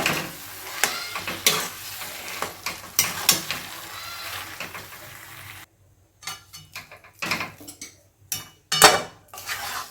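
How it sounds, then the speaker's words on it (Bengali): Potatoes are stirred and sautéed with spices in a pan. A utensil scrapes and clanks repeatedly against the metal over a soft sizzle, with a brief quiet gap midway. "আলুটাকে মশলার সঙ্গে সুন্দর করে কষে নেব।"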